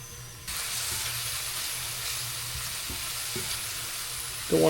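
Food sizzles and fries steadily in a Daiwa pan, a continuous close hiss with faint scraping, no voices.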